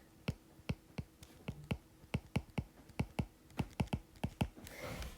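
Calculator keys are pressed in a fairly steady run of about twenty crisp, close taps, quiet but distinct, ending with a soft rustle.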